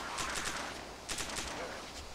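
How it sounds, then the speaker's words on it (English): Gunfire in the video game DayZ comes in two quick bursts of rapid shots, fairly faint and with a slight echo. "Are you shooting him?"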